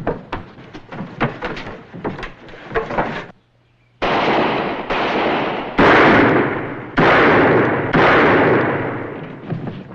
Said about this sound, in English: Mr. Buntline, here's where I use your gun.